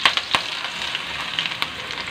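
Pork lungs frying in a pan for Ilocano bagisen, giving a steady close sizzle with a few sharper crackles and pops throughout.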